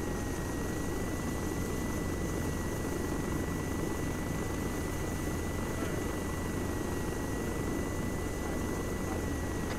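A Littlebird helicopter flying in ArmA 3, its rotor and engine drone steady and continuous, close and loud, with no talk over it.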